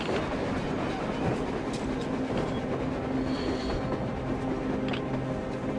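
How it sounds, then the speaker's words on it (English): A train rolls along surface rails in the video game Metro Exodus, a continuous low rumble with rhythmic clatter and faint metallic squeals, heard steadily at moderate distance without talk. "A damn train on the surface!"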